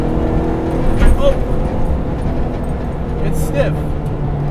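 Interior drone of a K24-swapped Honda Civic EG hatch driving, a steady engine hum with brief pitch shifts, while a person talks over it.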